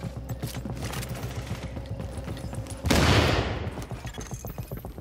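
Gunfire strikes a defended fortification in the online shooter Tom Clancy's The Division, Last Stand mode. A steady background of shots builds into a loud, sustained burst of heavy fire partway through, then eases back to scattered shooting.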